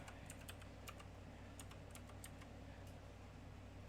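Quick bursts of typing on a computer keyboard, irregular clicking keystrokes in short clusters over a low steady hum, fairly faint and close.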